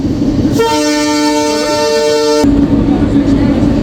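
A loud, steady train horn blares for about two seconds over a rumbling station backdrop, with the Tungipara Express, a vacuum-braked train, standing at platform four in Rajshahi.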